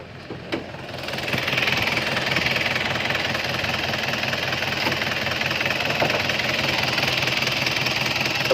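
A 1996 Nissan BM pickup's diesel engine idles steadily after a brief start-up clatter, a loud, even, knocking rumble that continues without pause and without speech.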